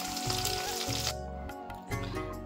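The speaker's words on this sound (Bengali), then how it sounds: "সেই জন্য পনিরগুলো ভাজছি। আর এদিকে একটু চিলি চিকেনও করব, সেই চিলি চিকেনের মাংসটাও ভাজছি।" Paneer and chicken pieces fry in a pan with a continuous, dense sizzle, heard close and steady for a few seconds with no speech.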